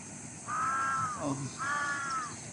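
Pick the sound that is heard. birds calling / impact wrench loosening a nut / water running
birds calling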